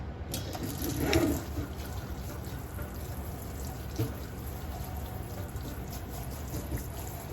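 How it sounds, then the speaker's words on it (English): Running water pours and trickles steadily as an EcoTools makeup brush is rinsed under a tap, a soft continuous splashing stream, fairly quiet and close, with no talking. "So now we're gonna go in with the EcoTools, and I'm gonna rinse this off first."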